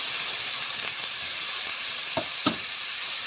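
Frying ginger, onion and garlic masala in a pan sizzles steadily, hissing loudly throughout, with a couple of sharp spits and crackles as a little water is poured in near the end.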